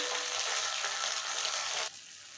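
Ginger paste with cumin and pepper paste hits hot oil for a fish and potato curry, giving a bright, hissing sizzle that holds steady and then drops sharply quieter near the end.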